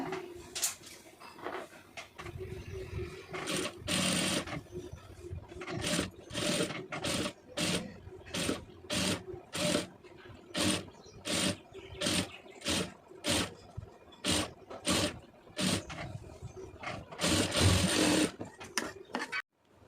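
A sewing machine stitches the neck of a soft silk saree blouse in bursts of rapid, rattling mechanical runs, starting and stopping repeatedly, close and clear, with brief pauses between runs.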